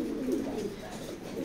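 Racing pigeons in a loft coo softly and continuously, a low steady murmur held close by for the whole moment.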